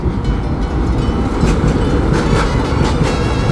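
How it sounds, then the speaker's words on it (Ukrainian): A tram rolls past on a busy city street by the Danube in Budapest, giving a loud, steady rumble with rail clatter and rising squeals, close by and continuous with no talking. "А ну як цей швидко поїде зараз трамвай."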